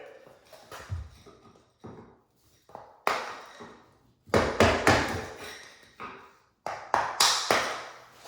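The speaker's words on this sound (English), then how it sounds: "So I'm gonna use the trusty flathead and mallet. Go ahead and knock that first piece out" Flathead screwdriver struck with a mallet to knock out a piece of door trim: sharp wooden taps and knocks in irregular clusters, some single and some in quick runs, close and fairly quiet.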